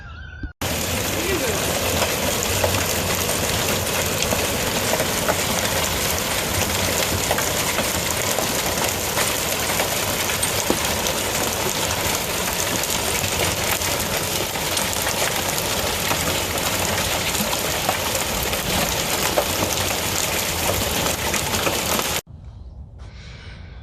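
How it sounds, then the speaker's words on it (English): Dense, steady clatter of hail pelting surfaces, loud and continuous for over twenty seconds before cutting off abruptly. "this is the hailstorm we had."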